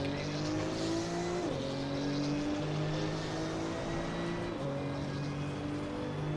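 Porsche GT2 race car engine in Assetto Corsa Competizione, a loud sustained drone that climbs steadily through the gears with sharp shift drops, continuous and close, no talking.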